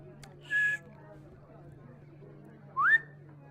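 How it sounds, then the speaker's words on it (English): Loose dentures let out two brief, high whistles about two seconds apart over a faint, steady low hum. "Am I whistling? My denture's going off."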